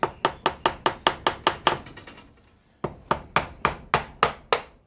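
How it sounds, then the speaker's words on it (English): Repeated sharp taps on the clutch cover of a Suzuki T250 two-stroke motorcycle to loosen the gasket, two quick runs of about eight evenly spaced close knocks separated by a short pause, no talk. "I'm just going to give it a tap to try and dislodge the gasket"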